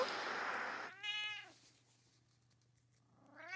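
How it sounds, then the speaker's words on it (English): A cat lets out a clear, drawn-out meow after a burst of broadband noise, followed by a quieter lull and the start of another meow. "Now you can meow as much as you like."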